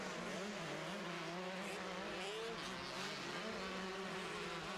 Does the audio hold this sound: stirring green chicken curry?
no